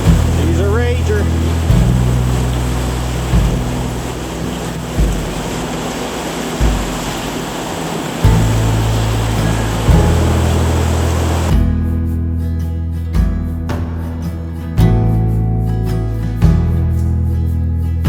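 Water rushes steadily over a river rapid, a close, continuous broadband roar. A deep rhythmic pulsing and a voice run underneath.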